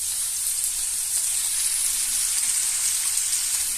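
Turkey escalope sizzles steadily in a stone pan, a close, even frying hiss with faint crackles and no break, cooked with little fat.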